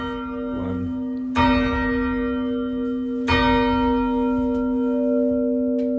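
Church bells ringing inside a 13th-century bell tower, two loud strikes about two seconds apart, each followed by a long, sustained ringing hum that hangs in the air between blows.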